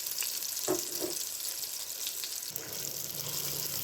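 Soft sizzling and stirring of small onions being mixed into chicken curry in a clay pot, quiet steady frying hiss with a few scraping stirs of a spoon.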